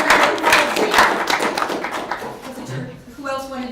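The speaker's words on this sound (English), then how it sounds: "Let's give her a round of applause." A room of attendees at a mayor's community coffee hour clapping for a woman in the audience, a burst of hand claps that starts strong and thins out, with some voices mixed in.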